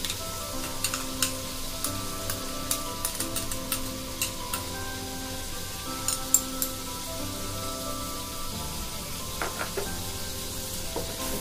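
Chicken biryani with cumin, green chilli and a cup of milk being stirred in a hot pot, a soft steady sizzle with scattered light scrapes and clicks from the spoon, fairly quiet and close.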